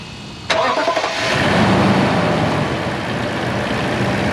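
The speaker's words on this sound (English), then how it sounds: "another great thing about this engine is how well and quiet it runs" A Lexus GX460 V8 starts with a sharp crank and catches, then settles into a steady, smooth, fairly quiet idle heard up close.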